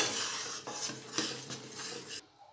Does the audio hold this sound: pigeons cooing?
no